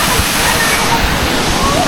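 Waterfall at Khlong Nam Lai in Kamphaeng Phet, a steady loud broadband rush of falling water filling the whole clip without a break.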